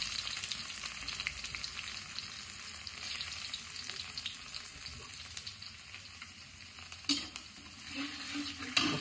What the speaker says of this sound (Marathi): तेल छान गरम झालेले, थोडेसे जिरे घातले, त्याला कट केलेला लसूण